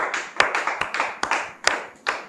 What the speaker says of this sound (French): Merci donc de recevoir sous vos applaudissements notre invité de ce soir.